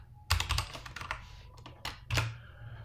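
Quick bursts of keystrokes on a computer keyboard while code is typed, close-up clicky taps in short irregular clusters with brief pauses between them.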